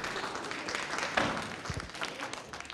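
Applause from a crowd welcoming returning field hospital medics at a 2011 homecoming parade: a soft, steady, somewhat distant patter of many hands clapping outdoors.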